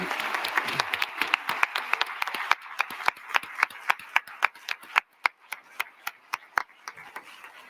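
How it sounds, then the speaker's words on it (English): Applause from an audience at a charity fundraising event, a thinning round of claps with individual sharp hand claps standing out clearly as it tapers off, fairly near and moderate in level. "Now let's give them that big round of applause."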